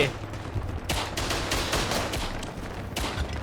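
Gunfire in the World War I video game Tannenberg around a machine gun nest: dense overlapping rifle and machine-gun bursts crackle continuously, loud and close, with a fresh volley near the end and no talk.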